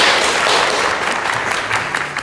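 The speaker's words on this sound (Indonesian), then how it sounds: "Oke, tepuk tangan untuk kita semua." A school audience of students applauds together at an assembly, a loud, dense, continuous clapping that fills the room for a couple of seconds.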